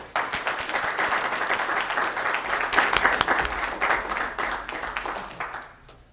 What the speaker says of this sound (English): Can you give one last round of applause for Bill and Sean?